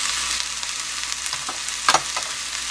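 Bibimbap sizzling in a hot stone ttukbaegi bowl with sesame oil, a close, steady crackling hiss with scattered sharp pops and a couple of louder spits near the end.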